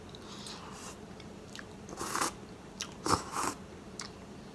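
Crunchy bites and chewing sounds come from someone eating curry-flavoured Cup Noodles with vegetables and spices. The bursts are close and irregular, with a few louder crunches near the end and no talking.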